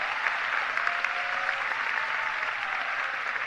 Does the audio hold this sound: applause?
yes